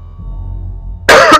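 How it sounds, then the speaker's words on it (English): A single sharp, loud cough bursts out close to the microphone after a second of quiet low hum, followed by a brief second rasp. "I have a little cough today."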